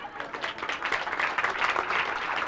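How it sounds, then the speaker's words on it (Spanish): An audience at a motivational talk on creativity in Argentina claps together, a dense, even burst of applause that continues steadily without talk. "Un aplauso."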